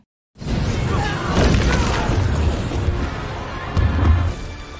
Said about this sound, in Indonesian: tiba-tiba ada sebuah ledakan bom